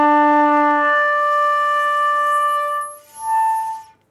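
A flute plays clear sustained harmonic tones, one bright held note sliding through stepped overtones, then a brief dip and a final pure tone before fading out.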